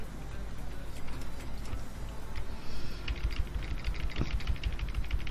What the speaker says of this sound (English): Why am I typing that in?